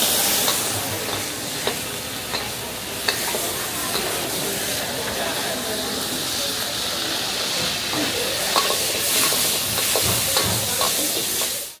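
Nasi goreng stir-fried in a wok by a single cook at a roadside food stall on Malaysia's east coast: a loud, steady sizzle with scattered metallic scrapes and clinks, running unbroken, with faint voices in the background.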